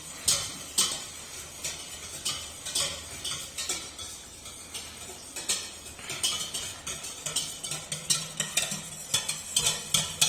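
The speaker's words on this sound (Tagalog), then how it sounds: "nimimix naman natin na mabuti itong ating liquid ingredients" Liquid ingredients being mixed in a bowl, a rapid rhythmic series of clinking whisk or spoon strokes against the bowl, steady and close, with no talking.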